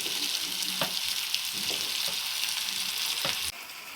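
Chicken and tomato pieces fry in a pan for tava masala chicken, a loud continuous sizzle with a few stirring clicks, dropping suddenly to a softer hiss near the end.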